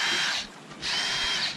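A power drill bores out a drain hole on a sailboat, two close high whirring bursts separated by a short pause.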